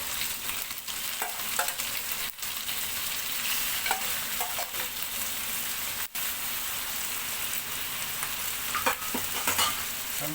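Shrimp fry in a pan of caramelized sugar, giving a dense, continuous sizzle with scattered crackles and pops throughout, close and fairly loud, with no talking.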